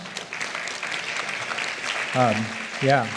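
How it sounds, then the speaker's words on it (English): An audience applauds organizations at a health fair forum, a steady moderate patter of clapping throughout, with a speaking voice breaking in over it toward the end. "We give them a round of applause."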